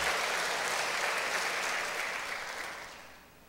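A church congregation applauds newly baptized members during a Sunday worship service, a full, dense burst of clapping that gradually fades out.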